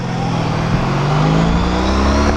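A 2015 Harley-Davidson Road Glide Special on a test ride, its engine a steady loud drone with a low rumble and a slowly rising pitch as the bike accelerates, heard continuously up close without any voices.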